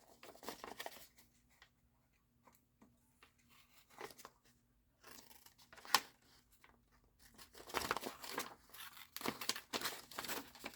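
Scissors cut apart a roll of paper labels, producing quiet, intermittent snips and crinkly paper rustles with pauses between, growing busier toward the end.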